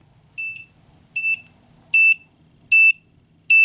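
A homemade fire alarm system set to pulse sounds after its pull station is pulled, giving five evenly spaced electronic beeps, each about a third of a second, clear and close with no talk.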